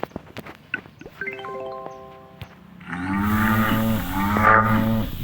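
A loud, drawn-out cow moo sounds close by, rising and holding for a couple of seconds after a few soft knocks and a short tonal chime.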